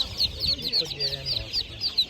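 Chicks for sale at the Kolomyia animal market peep in rapid, repeated high chirps, a busy continuous flutter of small calls close up, with market chatter faintly underneath.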